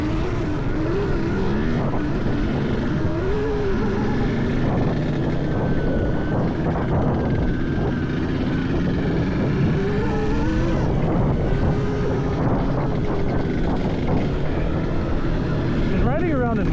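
An electric Honda TRX90 ATV fishtails around off-road at Outlaw Extreme in Ohio, a continuous loud roar of wind and motion noise with shifting motor whine and faint voices mixed in.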